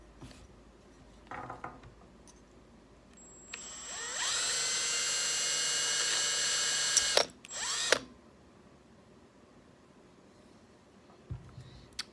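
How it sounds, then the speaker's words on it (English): A small drill boring a hole at the solder spot on a Honda Z50 carburetor float: a steady high whine for about four seconds, then two short bursts, with quiet handling noises around it. "I drilled a small hole in the side, right where that factory solder daub was"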